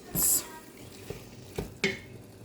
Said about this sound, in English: just gonna stir the meat in and let it simmer for a little while